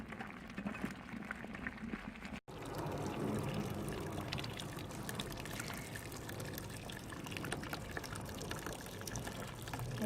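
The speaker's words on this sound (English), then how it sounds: "And that's a vigorous boil." A vigorous rolling boil of doppelbock beer wort in a home-brewing kettle, a continuous bubbling, churning wash that holds steady for the whole stretch with one brief dropout near the start and no voices.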